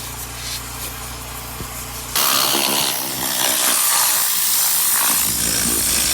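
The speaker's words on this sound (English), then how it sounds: "Scrubbing away at these seats." Car interior detailing: seats being scrubbed under a loud, hissing pneumatic air tool that kicks in abruptly partway through and runs steadily, drowning out a quieter mechanical hum.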